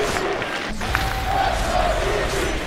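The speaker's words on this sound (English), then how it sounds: "The AG chants have begun." Dense arena crowd at The International 2018 esports tournament, roaring and chanting EG throughout, a steady wall of massed voices with rising swells.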